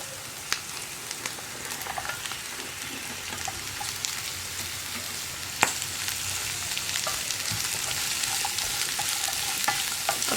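Chopped carrot and snake gourd sauté with green chilli in a hot pan for a thoran. A steady close sizzle runs throughout, with scattered sharp ticks and scrapes from stirring and one louder clack midway.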